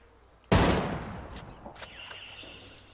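A single loud, sharp L115A3 sniper rifle shot fires in the video game Ghost Recon Wildlands, followed by a long decaying echo and faint clinks.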